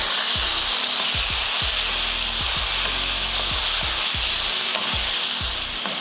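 Tomatoes sizzle and fry steadily in a pan with onion, garlic and green chilies. The frying hiss is continuous and close, and regular stirring scrapes recur about once a second. No one speaks.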